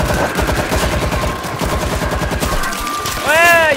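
Rapid automatic gunfire mowing down zombie hordes in the co-op shooter World War Z, a dense rattling stream of shots that thins out near the end, followed by a rising whine of game effects.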